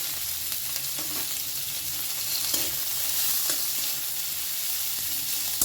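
Chopped onions frying in a pan over a medium gas flame give a continuous, fairly loud sizzle with occasional soft stirring knocks throughout.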